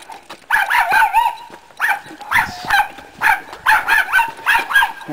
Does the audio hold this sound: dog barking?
yes